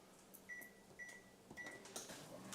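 A microwave oven heats a burger for 30 seconds, giving off faint, clipped electronic beeps and a few soft clicks and knocks in a quiet room.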